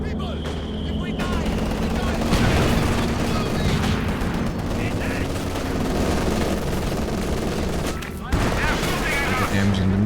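Sustained machine gun fire from a central MG position in a competitive strategy war game match, continuous rattling bursts with booms mixed in, under steady commentator talk throughout.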